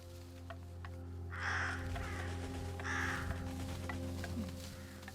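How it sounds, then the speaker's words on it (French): Crows caw on a terrace in the video game Röki, two harsh calls spaced about a second and a half apart over a steady low game-music drone. "J'essaye de faire partir les corbeaux de la terrasse"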